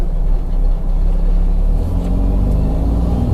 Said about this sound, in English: Watch out, car.